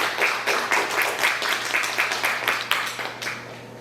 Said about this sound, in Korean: 그 존경의 박수를 좀 저는 보내드리고 싶습니다